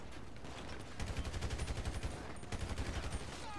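Rapid bursts of gunfire in the video game GTA 5, automatic volleys crackling in two clusters over a steady dense background, loud and close.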